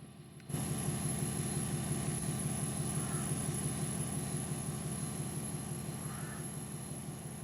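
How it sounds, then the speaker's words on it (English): Steady propeller drone hovering over a plowed farm field, a constant engine hum with a high whine that starts abruptly and holds evenly, fairly faint and alone. "let me get the drone out here so you can see what we did"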